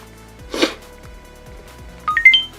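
An Aasonida Full HD 1080P digital video camcorder powers back on: a soft handling thump comes first, then a quick, bright, rising four-note chime plays close and clear in a quiet room.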